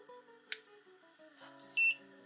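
A Tooltop X6 dual-screen clamp meter gives a short electronic beep as it is switched on, a single clear tone near the end alone over faint background, with a small click just before.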